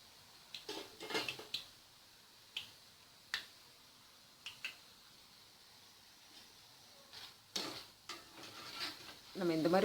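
Sparse, sharp crackles and pops from a South Indian spicy mixture snack deep frying in hot oil, faint and irregular, with a slightly louder cluster near the end.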